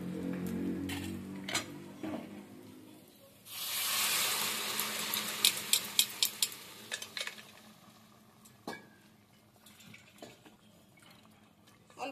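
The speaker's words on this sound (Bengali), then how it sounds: "এই ডালটা মশলার মধ্যে আমি ঢেলে দেবো।" Cooked dal is poured from a pot into fried spices in a pan, giving a loud wet splashing rush followed by a series of sharp metal clinks and scrapes.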